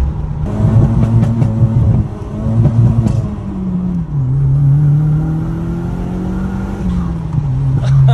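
An Audi S3 1.8T engine revs up close and loud, its rumbling drone rising and falling in pitch as the throttle is blipped and held.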